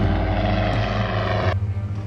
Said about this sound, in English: All right, kid, do you want to try flying the plane?